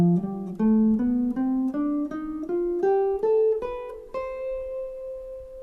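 A C melodic minor scale rises over two octaves, each note played distinctly in a steady, even rhythm, ending on a held top C; loud and clear with no talking.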